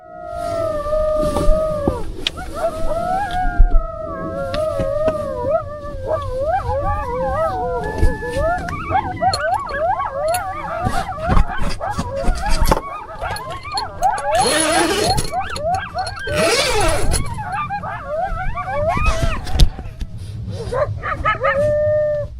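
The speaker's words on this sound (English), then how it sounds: "A pack of coyotes had gathered nearby, their calls carried through the darkness as they moved across the area." A pack of coyotes howls and yips through the darkness at a flooded, muddy camp, a chorus of overlapping rising and wavering calls that stays loud and busy throughout, with no talk.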